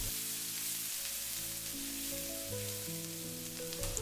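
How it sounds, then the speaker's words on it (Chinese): Minced ginger and garlic sizzle in a little oil over low heat, a soft, steady crackle heard close, with sustained musical tones playing underneath throughout. "加入少許底油，下入薑蒜末，小火炒出濃郁的香味"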